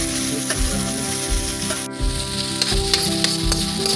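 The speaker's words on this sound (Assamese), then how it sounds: "মছলাখিনি ভাজি লোৱাৰ পিছত চাব পাৰে" Spices frying in a pan during home cooking of spinach with boiled potatoes, a loud continuous sizzle broken by scraping stirs and clinks of the spoon against the pan, with no voices.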